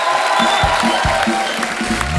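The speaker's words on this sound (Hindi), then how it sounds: "जोरदार तालियां हार्डी के लिए" Studio audience clapping for rockstar Harrdy Sandhu as he comes on stage at a Hindi comedy talk show, a steady dense burst of applause with a few louder claps standing out.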